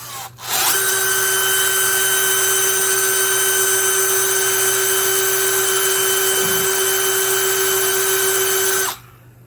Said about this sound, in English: we're just going to see if this drill bit breaks or what exactly we have here